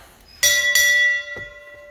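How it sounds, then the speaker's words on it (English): A ship's bell rings twice in close succession at a US Navy retirement ceremony, bright and loud, its metallic tone ringing on and fading away. "Sound, 2 bells."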